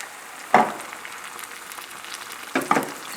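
White wine poured into a hot pan of onions that have cooked about ten minutes, giving two short sharp sizzling bursts, one early and one near the end, with quiet background between.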